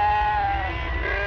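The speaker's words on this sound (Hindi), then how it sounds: "हटाओ अपनी बकरियों को" Goats bleating in a continuous, fairly loud drawn-out cry with a steady wavering tone, several animals close by and no talk over it.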